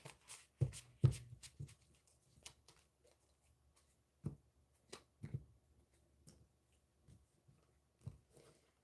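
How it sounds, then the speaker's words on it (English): A deck of matte cardstock tarot cards being shuffled, heard as quiet, irregular bursts of papery riffling and soft clicks with pauses between them, and no talking. "This deck is hard to shuffle."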